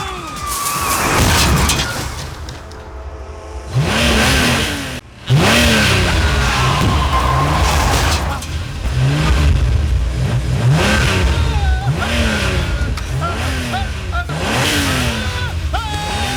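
A car engine revs and accelerates repeatedly in a driverless film chase scene, rising whines cycling up again and again, loud and close, with a brief cut of dramatic music and voices.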